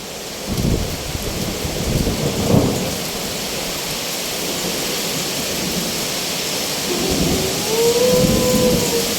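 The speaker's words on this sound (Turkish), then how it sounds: "Gök gürültüsüyle bir gelecek." Steady heavy rain pours throughout in Denizli, Turkey, while low thunder rumbles roll in and out, swelling louder toward the end.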